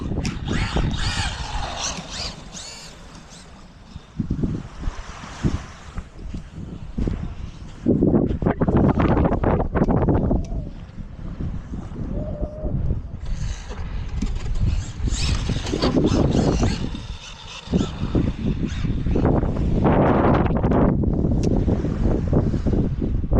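Breezy wind at a beach gusts hard against the microphone in uneven, rumbling bursts that swell and fade throughout.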